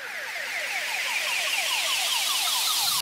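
A dubstep riser effect sweeps upward as a bright, noisy swell, with quick repeating chirps layered inside it. It grows steadily louder for three seconds and then cuts off, with no talk.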